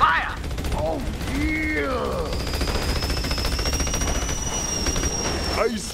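Heavy gunfire in the shooter Battleborn, with a continuous rattling stream of rapid shots under whooshing effects and voices.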